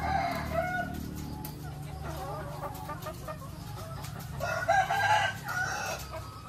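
Laying hens in a coop cluck and squawk continuously, close by and fairly busy, with a voice talking faintly beneath.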